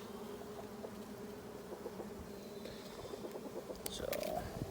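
Honey bees buzz around a swarm colony opened for inspection, a steady low hum close by with a few brief higher insect whines near the end.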